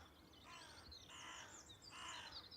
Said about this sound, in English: Noisy crow.